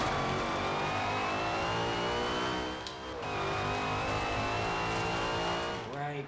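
Race car engine in a racing video game, screaming at high revs and climbing steadily through the gears with a brief dip at a shift, loud and continuous with faint talk underneath.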